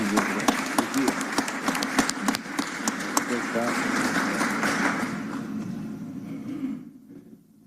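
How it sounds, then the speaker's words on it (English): Applause from a city council chamber audience in Atlanta after a proclamation for Black Business Month, a steady patter of hands with some voices mixed in, fading out near the end. "Applause."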